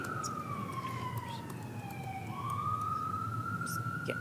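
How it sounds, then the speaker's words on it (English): An emergency vehicle siren passes outside a council meeting room, its wailing tone sweeping down then back up, distant and muffled beneath a faint room background. "I lost my train of thought because of the siren"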